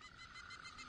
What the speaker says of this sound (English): that's my sound machine. I'm a troubled sleeper. Kind of hooked on it. Frogs? Yeah, and cicadas. Officially, we're in the rainforest.